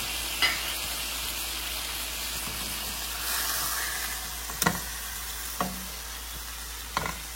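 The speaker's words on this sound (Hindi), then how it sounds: "इसको अच्छी तरीके से प्रेस करेंगे ताकि अंदर तक मीट जो है ना वो पक जाए।" Meat sizzles steadily in a pan over a low flame as it is pressed down, with a constant frying hiss and a few sharp scrapes and taps from the utensil.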